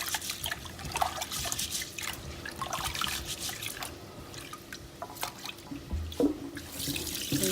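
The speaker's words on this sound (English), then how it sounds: "And then we're going to put some more tap water in this." Tap water runs into a sink while rice is washed, a steady splashing trickle with drips and occasional clinks and knocks close by.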